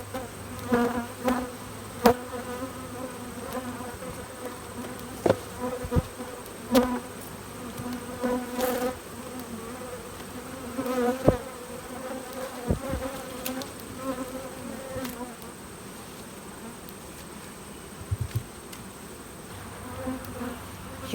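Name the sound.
honey bees buzzing around a single brood chamber hive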